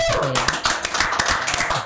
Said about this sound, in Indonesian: Tepuk tangan dong buat Bang Obi.